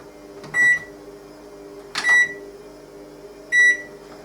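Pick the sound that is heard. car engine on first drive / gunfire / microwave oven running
microwave oven running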